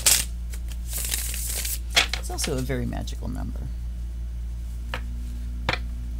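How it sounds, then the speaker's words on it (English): A Universal Tarot card deck being shuffled, with a riffling burst at the start and a few brief card snaps later, while a voice speaks over the middle. "going to do three more shuffles because we want a thorough mix"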